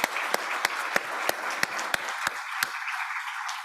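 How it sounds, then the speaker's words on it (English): A session audience gives a round of applause: dense clapping that thins out over a few seconds, leaving a handful of sharp, evenly spaced claps near the end. "let's give them a big round of applause."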